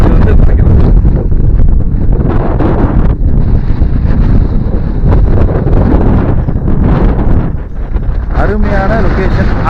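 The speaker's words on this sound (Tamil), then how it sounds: "காற்றடிக்கிறதுல நம்ம பேசுகிறது கேட்குமான்னு தெரில." Strong wind on a hilltop at Sirumalai, Tamil Nadu, India, buffets the microphone in loud, gusting rumbles, with a voice faintly audible under the roar near the end.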